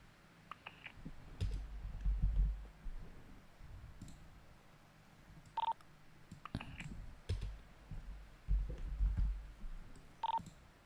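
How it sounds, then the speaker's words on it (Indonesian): Someone taps a phone keypad to dial a call, giving scattered short clicks and a few brief tone beeps amid rustling and low handling noise, with no talk. "Gua telepon Riko dah"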